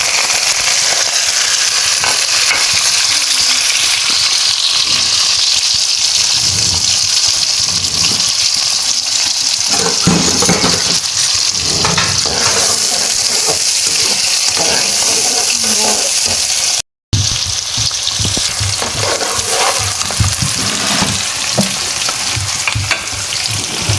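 Salan curry frying in a pan in a village home kitchen, a steady close sizzle with stirring and scraping running throughout, broken by a brief dropout near the end.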